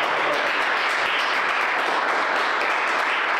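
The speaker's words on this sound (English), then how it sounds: "I'm gonna need everybody to clap it up for the ladies real quick." Steady, dense applause from an audience clapping for the ladies, loud and continuous throughout with no pauses or voices on top.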